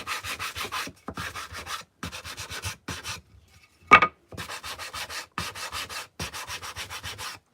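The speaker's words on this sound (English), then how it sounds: "let's just take our sanding block and we're just going to give this a sand" Repeated strokes of a sanding block rasp across wood in short bursts with brief pauses, plus one sharp knock midway.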